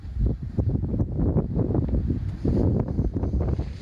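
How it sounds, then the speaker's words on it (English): Heavy outdoor wind buffeting a microphone on a battlefield ghost tour in Gettysburg, loud continuous low rumbling gusts that swell and ease without pause. "It's very windy."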